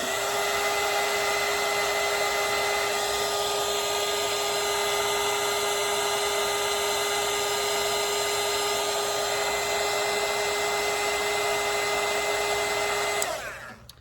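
Hair dryer blowing on watercolour paint, a loud steady whine with constant airflow roar running unbroken for many seconds before switching off abruptly at the end.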